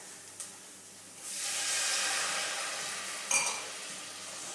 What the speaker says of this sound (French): on déglace au vin blanc